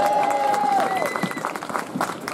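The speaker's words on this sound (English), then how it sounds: "Give him a big round of applause, please." A crowd at an NHS march and rally gives a speaker a round of applause, thick continuous clapping with a shrill whistle near the start that thins out toward the end.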